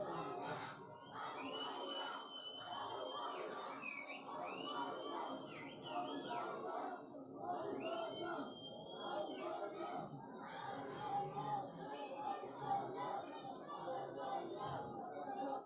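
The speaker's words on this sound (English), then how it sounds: "And then you can see them cheering his name." An esports crowd in Dubai cheering a player's name, a large mass of voices with rising chanted shouts and whistling peaks, sustained and fairly distant, continuous for the whole stretch.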